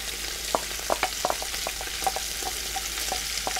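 Bacon frying in a pot with onions and garlic, a quiet steady sizzle with scattered small pops and a few soft stirring scrapes, heard on its own with no voices.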